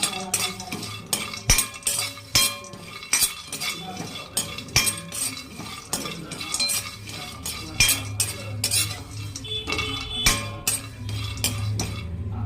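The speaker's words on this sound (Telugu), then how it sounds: "ఇది కూడా లైట్గా రోస్ట్ చేసుకోండి ఫ్రెండ్స్, లైట్గా రోస్ట్ చేసుకోండి ఇది కూడా పిస్తా పప్పుని." Pistachios being lightly dry-roasted in a pan, with repeated metallic clinks and scrapes of a spoon stirring, over a faint crackle.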